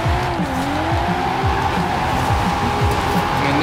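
A GT-R drifts in a racing video game, its engine droning steadily while the tires squeal continuously and loud throughout, with no pauses.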